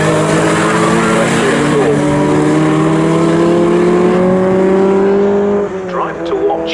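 Saloon race cars at the Snetterton circuit during a Tin Tops series race, engines droning loudly and steadily as they pass, with a commentator talking over the continuous roar.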